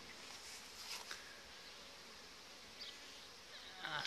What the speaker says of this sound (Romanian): albinuțile au început să aducă polen, au nevoie și de apă.